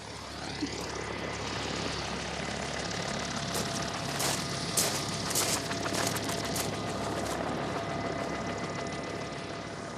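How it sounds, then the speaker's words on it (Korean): A military helicopter carrying a Marine Corps high-altitude infiltration team heard from close by, as a loud, steady rotor and engine roar with dense broadband noise that fills the whole stretch and does not let up. "무거운 군장과 낙하산을 짊어지고 또다시 강화를 위해 헬기에 탑승하는 해병대 고공침투팀 샤크."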